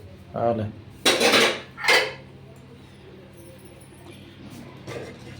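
Plates and dishes clatter and clink as they are set out in a home kitchen, a few loud bursts of ceramic knocks up close over a couple of seconds, then quieter handling noise.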